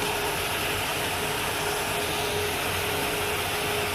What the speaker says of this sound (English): the clutching tool just came to a stop